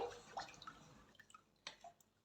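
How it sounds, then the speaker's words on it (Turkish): Water poured into a pot of sugar while making baklava syrup: soft splashes and trickling drips in short irregular bursts, close and fairly quiet, with no talking. "Üzerine 5 su bardağı suyumu ilave ediyorum"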